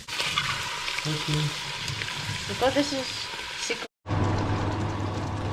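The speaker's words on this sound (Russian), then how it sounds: "А теперь в эту кастрюлю мы перекладываем лук." Steady sizzling and frying of onions in a hot pot, with stirring clatter and a brief cut to silence before a louder, continuous sizzle.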